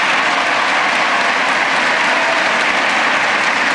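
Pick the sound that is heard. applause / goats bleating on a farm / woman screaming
applause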